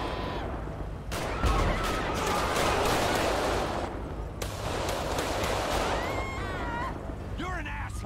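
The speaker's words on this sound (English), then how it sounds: "Oh, there's somebody else shooting" Gunfire in GTA 5 during an LSPDFR police patrol mod session, a dense, sustained burst of shots filling most of the stretch with brief pauses, with voices talking over it.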